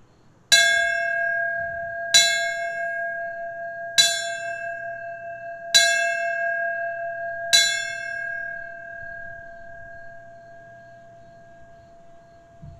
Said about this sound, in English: we will now ring the bells